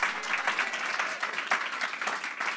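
An audience at an author talk claps and applauds steadily, a dense patter of many hands at moderate loudness throughout.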